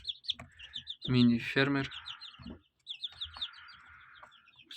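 Chickens cluck and two-week-old chicks chirp on a small farm; a few loud clucks stand out among scattered peeps while a person talks.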